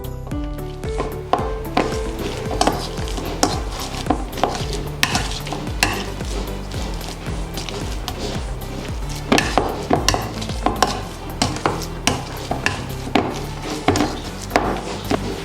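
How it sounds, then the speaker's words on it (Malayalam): Boiled potatoes for aloo bonda are mashed in a pot with a steady run of close, soft squelching knocks and scraping taps, repeated in an uneven rhythm with no talk. "നമ്മൾ ബോയിൽ ചെയ്ത് വെച്ചിരിക്കുന്ന പൊട്ടറ്റോ നമുക്കൊന്ന് ഉടച്ചെടുക്കാം"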